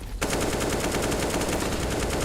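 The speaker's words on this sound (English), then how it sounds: "Spam shots through smoke." Rapid automatic gunfire in the video game Counter-Strike: Global Offensive, a loud, close, sustained burst of evenly spaced shots firing continuously from the first moment with no voices.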